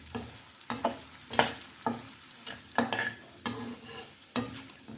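Lentils stirred while roasting in a pan on low to medium heat, a scraping stir repeating about once a second, each stroke bringing a short rustle and a faint sizzle, close and fairly quiet with no talk.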